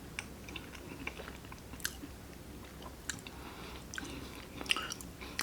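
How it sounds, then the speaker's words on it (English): Close, quiet chewing of a banana nut chocolate chip muffin, soft moist mastication with a few small crunches from the nuts scattered through the bites. "little crunch from the nuts"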